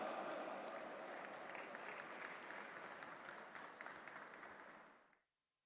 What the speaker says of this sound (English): Please put your hands together and welcome with a round of applause, Madam Marzia Dalal.